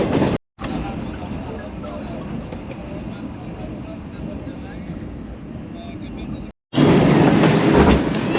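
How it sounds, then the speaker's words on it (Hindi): The 5 Up Green Line passenger train approaches Khanewal Junction with a steady, loud rumble of wheels on rails and faint clickety-clack, heard from on board, briefly cutting out before a louder surge at the end. "finally 5 up green line Khanewal junction approaching बनाते हुए"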